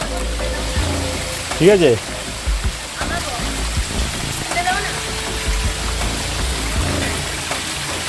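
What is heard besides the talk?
water streaming down in a jungle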